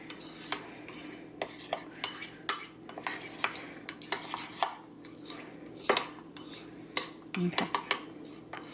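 Thick homemade diaper cream paste being stirred and slapped around in a bowl, giving repeated sharp clicks and scraping knocks of a utensil against the dish, close and fairly loud over a steady low background hum.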